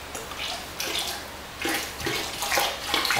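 Liquid pottery glaze pours out of a ceramic pot in a studio, a splashy, gurgling stream that comes in several close surges and trickles, fairly near and continuous with no talk.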